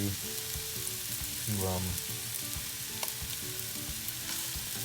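Sweet potato slices fry in a dak-galbi pan with a steady, close sizzle throughout and a brief scraping stir partway through.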